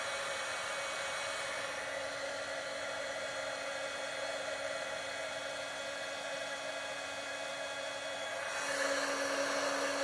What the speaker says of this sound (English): while I use the heat gun